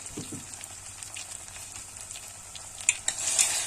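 Tomato paste with mint fried in oil for tarhana soup, close scraping stirs over a light sizzle, with a few sharp clinks and louder frying bursts toward the end.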